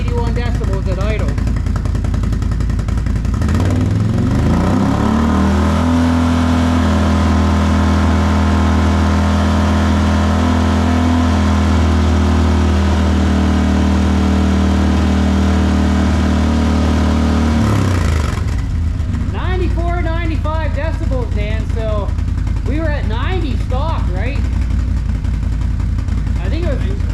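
A Can-Am Renegade 1000 ATV fitted with a Yoshimura exhaust idles loud and close, a steady deep rumble that holds from about five seconds in and then cuts off, followed by talking.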